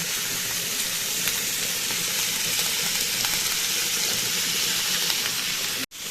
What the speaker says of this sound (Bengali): নুন হলুদ দিয়ে ভালো করে আবার একটু নাড়িয়ে নেব